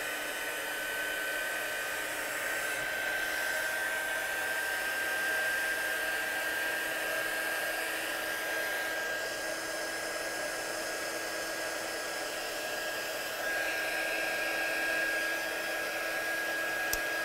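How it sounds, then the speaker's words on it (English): A heat gun blows steadily and loudly over watercolour paint on a stamping project, a constant airy roar with a thin whine that holds unbroken and never fades. "So let's dry that one off with our gun."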